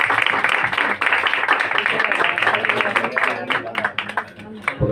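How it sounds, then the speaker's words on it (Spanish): Theatre audience at a film event applauding warmly as guests come up on stage, steady dense clapping with some voices mixed in. "Un aplauso."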